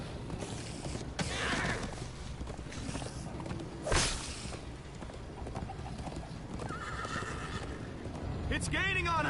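Horse galloping with clip-clop hoofbeats and a neigh in the Minecraft Story Mode video game, steady under background music and character voices, ending with a whinny.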